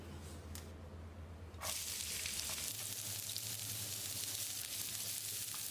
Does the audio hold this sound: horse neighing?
no